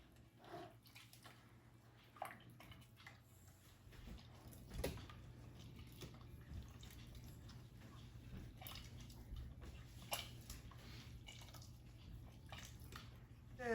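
Wet squelching and sloshing as a hand works a thick flour batter in water, steady and close, with small drips and splashes.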